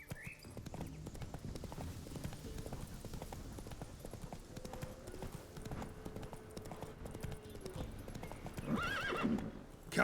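Roach, a horse in The Witcher 3, trots with steady clip-clop hoofbeats throughout, and a clear neigh rises near the end over the moving hooves.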